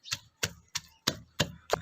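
A wooden stick pounds chicken and spices into a paste for kunda kebab, giving six evenly spaced, sharp, close thuds in a steady rhythm with short silences between, no talking.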